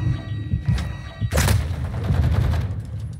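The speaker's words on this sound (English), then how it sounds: "I'm shooting a missile at you." A missile launcher fires in Warzone 2.0, a sharp blast and whoosh bursting out midway over a low rumbling background of distant combat and movement.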